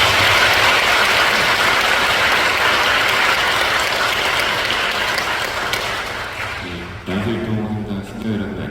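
A Catholic parish audience gives a priest a loud, dense round of welcoming applause that carries for several seconds, then thins out and gives way to someone speaking.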